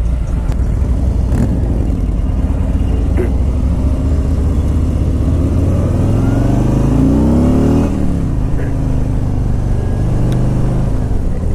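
A 2018 Harley-Davidson Street Glide motorcycle on a test ride, its engine droning loud and close, revving up and easing off near the middle, with steady wind roar throughout.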